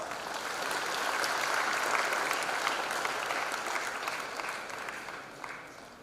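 An audience at a freshers' induction program applauds in a dense, sustained wash of clapping that swells, holds steady, then gradually fades, with no talking over it.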